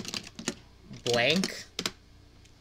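Keys clattering on a computer keyboard in short irregular bursts of taps, close and fairly crisp, broken by a brief spoken word in the middle.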